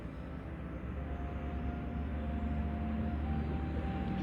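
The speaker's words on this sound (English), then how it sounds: "So if you hear the traffic in the background," Mexico City street traffic as a steady, low rumbling background drone with a faint sustained hum, continuous and moderately loud with no talking.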